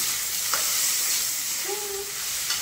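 Chopped tomato is added to ginger-garlic paste frying in a pan for a Kolkata restaurant-style Mughlai dish, giving a steady, close sizzle with a faint stir and scrape.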